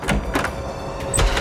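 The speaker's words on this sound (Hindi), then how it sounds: "क्यों दरवाजा तोड़ रहे हो तुम यार?" Heavy thuds against a door as someone tries to break it down in a police station during a tense scene, several loud blunt bangs spread unevenly across a short burst, close and forceful.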